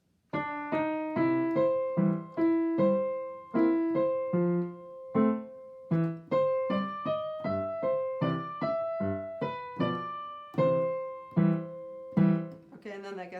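A piano plays the ragtime main theme of The Entertainer at a moderate, bouncy tempo, with clear, close, detached melody notes over a steady left-hand accompaniment, alone without talk.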